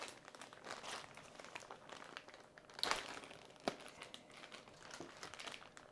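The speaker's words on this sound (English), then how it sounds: "I forgot to bring scissors, so just gonna have to tear this open." Plastic packaging around a small One Piece figure being torn open by hand: steady crinkling and rustling throughout, with a couple of sharper rips and snaps, close and fairly quiet.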